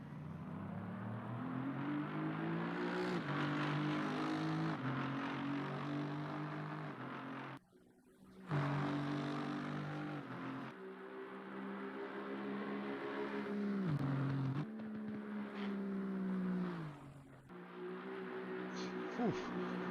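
Aston Martin race car in the Assetto Corsa Competizione sim racing at Spa, its engine droning loud and continuous with rising revs, brief dips at gear changes and lifts, and a faint commentator voice underneath.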